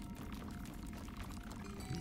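Water gushes out of pipes in a video game, a steady, dense pouring rush that stays even throughout, quiet and continuous with no talk.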